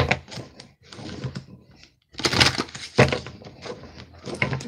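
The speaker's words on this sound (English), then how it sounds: "See if I can shuffle these cards." Rapid papery clicking and riffling of playing cards being shuffled up close, in several uneven bursts with a brief pause between.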